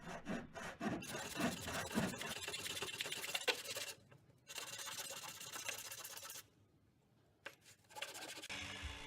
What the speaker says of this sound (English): here we're just cutting a piece of that 1/4 inch plywood to build the frame on